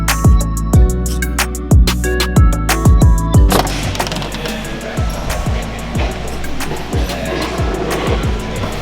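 A BMW E92 M3 driving, with a loud, close engine revving up and dropping repeatedly through gear changes, then a rougher, steadier roar as it continues on the road.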